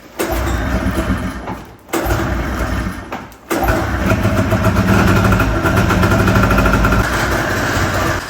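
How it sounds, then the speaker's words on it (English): Rebuilt snowmobile engine running steadily close by and revving under throttle, loud and continuous, with two brief cut-outs early before it settles into a sustained rough roar. "When I give it throttle, it makes a weird, like, something's impacting something."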